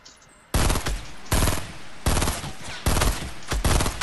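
Rapid bursts of automatic gunfire from the Fortnite video game, four loud sustained volleys separated by short pauses, with no talking over them.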